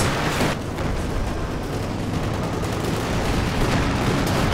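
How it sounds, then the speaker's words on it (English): Machine gun fire in a Company of Heroes 2 4v4 tournament match, a dense and loud continuous rattle of automatic shots. Booming artillery and explosions blend in, and the din fills the whole stretch. "With the coaxial machine gun finish him off."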